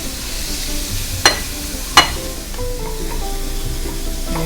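Crumbled extra firm tofu sizzles steadily in a pan coated with cooking spray over high heat, with two sharp clatters of a utensil early on and faint stirring scrapes throughout.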